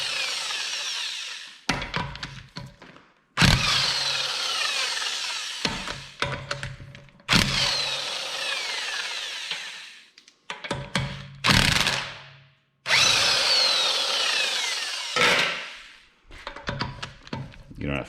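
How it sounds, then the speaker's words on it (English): Impact wrench breaking loose 17 mm lug nuts on a BMW 335i during a brake job, several loud bursts of rapid hammering separated by short pauses, close by with a voice speaking between them. "if you do have an impact, then it makes it a little bit easier."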